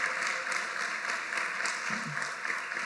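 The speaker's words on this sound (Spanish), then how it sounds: "Denle un aplauso a esa dama que está aquí en este lado." A crowd claps steadily in an even wash of applause, sustained without pause, with a brief low murmur of voices underneath.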